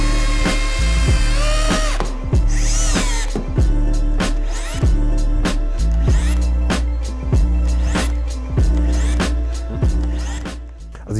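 An 18V cordless rotary hammer drilling and struggling for torque, with a loud close motor whine broken by repeated rhythmic hammering thumps and shifting pitch as it labors.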